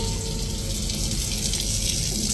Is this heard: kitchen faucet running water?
yes